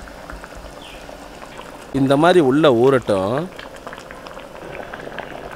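An omelette curry (egg omelette kuzhambu) simmers in a pot on a stove, giving a steady bubbling backdrop throughout; a voice speaks briefly over it partway through.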